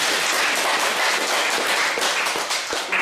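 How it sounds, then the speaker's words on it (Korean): Loud, sustained applause from a workshop audience, dense clapping filling the whole stretch with no talking. "박수치면서 마무리 짓도록 하겠습니다"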